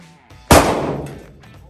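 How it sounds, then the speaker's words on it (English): A single sharp, loud handgun shot fired at a target on a shooting range, a close crack followed by a ringing decay over about a second. "we're going to do 2 shots center mass, no time limit"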